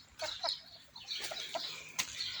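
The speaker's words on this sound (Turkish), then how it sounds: "Bu sanırım yine kılavuz yapan tavuk" Several chickens cluck and squawk in short bursts, fairly faint and a little distant, with one sharp cluck standing out near the end, heard around a coop with eggs.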